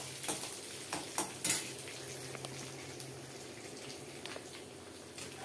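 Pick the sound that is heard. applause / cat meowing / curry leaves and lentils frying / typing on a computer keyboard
curry leaves and lentils frying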